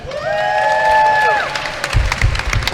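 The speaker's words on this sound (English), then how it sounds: "So, if you hear some cheering, it's because of that." English and Irish spectators at the Euros 2018 speedcubing final break into cheering and scattered clapping after a sustained tonal sound, loud and close for about a second before the clip ends.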